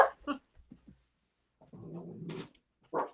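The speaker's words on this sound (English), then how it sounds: "She's gonna start barking now." A dog makes a few short, sharp barks, then a longer whining or growling sound and another bark, heard fairly close with quiet gaps between.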